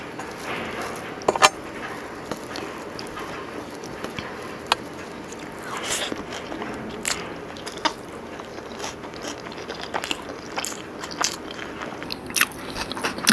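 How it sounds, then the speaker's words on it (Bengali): Chicken biryani being eaten without raita, with crisp biting and crunchy chewing sounds recurring at close range in short irregular bursts through a quiet room. "প্রথমে একটু রায়তা ছাড়া বিরিয়ানি খেয়ে নিই"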